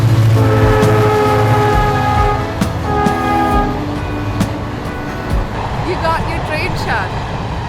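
A train rumbles past with a long, loud horn blast, steady tonal blaring over heavy mechanical noise, with people talking nearby.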